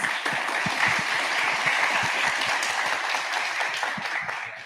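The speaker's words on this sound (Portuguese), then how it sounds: "mais uma salva de palmas para os nossos apresentadores" Sustained applause from a crowd for presenters, steady dense clapping that fills the space throughout and tapers slightly at the end.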